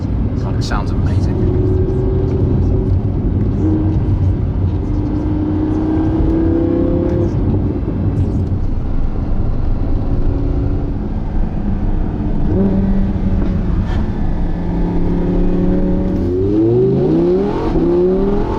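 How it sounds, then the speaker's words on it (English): Audi R8 V10 Plus accelerating hard, a loud sustained engine roar with repeated rising pitch sweeps through the gears and a sharp climb near the end, with someone talking over it. "It's just ridiculous acceleration."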